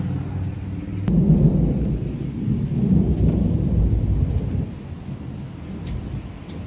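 Thunderstorm with heavy rain and rumbling thunder, a loud low roll building and fading over steady downpour, close and continuous with no talking.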